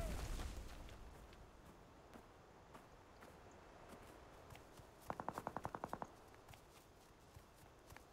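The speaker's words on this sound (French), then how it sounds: "comme j'ai entendu des coups de feu et tout, je préfère quand même vérifier." A short, rapid burst of about eight gunshots midway through in the video game Cuisine Royale, set against a quiet, murky background with scattered faint clicks.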